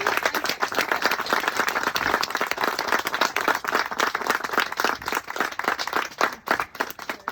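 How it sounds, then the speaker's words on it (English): Loud, dense applause from an audience at a Friends of Edgewood founders' Q&A gathering, steady crowd clapping sustained throughout without speech. "Well, I hope you're applauding for yourselves."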